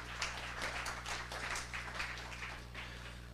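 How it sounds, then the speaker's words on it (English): A church congregation applauds together, a soft, somewhat distant patter of many hands that swells and fades in uneven waves over a low steady hum, with no talk. "give God a clap"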